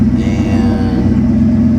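A turbocharged Coyote 5.0 V8 on a single On3 76/75 turbo kit holds a high idle, a loud, steady low rumble close by with no voices over it.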